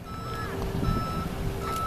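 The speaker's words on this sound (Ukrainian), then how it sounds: "Тут всі буси, всі отакі міні-траки, вони всі мають ту хрень, яка пікає" Reversing beeps from vans and mini-trucks at a lake, a steady tonal pulse heard at a distance over a low rumbling background, with no speech.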